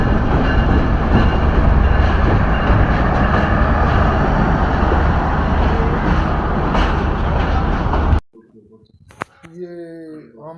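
Train noise at Multan Cantt railway station, a loud steady rumble and rattle of carriages for about eight seconds that cuts off abruptly, followed by a brief bit of talk in a quieter space.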